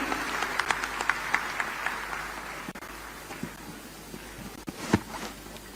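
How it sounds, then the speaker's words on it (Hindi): Audience clapping at a public event in Indore welcoming young participants, a steady mid-level patter that thins out, with a few sharper knocks and handling bumps near the end. "तो तालियों के साथ युवा साथियों का स्वागत करें।"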